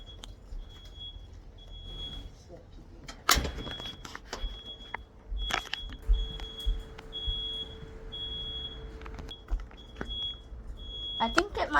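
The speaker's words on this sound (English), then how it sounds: "Auntie Tina's smoke alarm is going off." A household smoke alarm chirps in repeated short high beeps from another room, with scattered bumps, handling noise and occasional voices around it.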